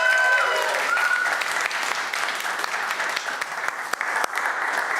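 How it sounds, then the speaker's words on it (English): An audience at an awards ceremony for search marketing claps steadily in sustained, dense applause lasting several seconds, loud and filling the room. "let's give them a round of applause"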